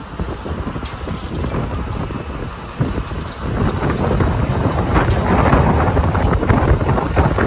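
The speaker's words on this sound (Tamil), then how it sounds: "காற்று ரொம்ப கடுமையாக ஓடுது" Heavy wind roars continuously with a low rumbling buffet, growing louder and more turbulent toward the end, a night gale on a fishing boat in the deep sea.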